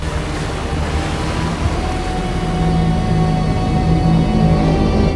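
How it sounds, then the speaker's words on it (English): A massive ship rises out of the water in Dune's film sound design. A thick, loud, sustained low rumble with a surf-like wash swells slightly toward the end, then cuts off abruptly. "I truly feel the massive ships coming out of the water."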